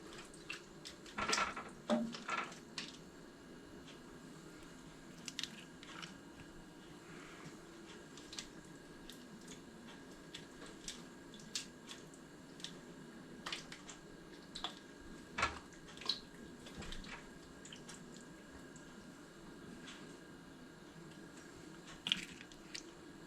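Someone eats oxtail close up, with soft wet squishes and occasional sharper bites and smacks scattered across a quiet background, irregular and faint.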